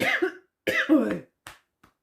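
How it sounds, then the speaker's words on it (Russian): A persistent cough from a woman who cannot shake it: three or four harsh, close bursts in quick succession, the last ones fading into a faint final hack. "Никак кашель не проходит"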